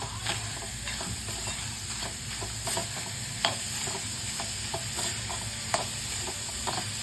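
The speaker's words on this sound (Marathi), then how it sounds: "जोपर्यंत आपल्याला गुळ पूर्ण मेल्ट होत नाही तोपर्यंत आपल्याला असंच परतत राहायचं आहे" Jaggery melts in a hot pan while being stirred steadily, a continuous close sizzle and hiss with frequent light scraping taps of the spoon throughout, and no voices.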